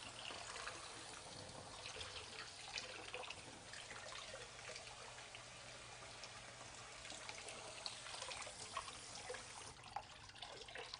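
Tap water runs steadily over homemade ramen noodles being rinsed in a kitchen, a continuous faint splashing and trickling with no talk.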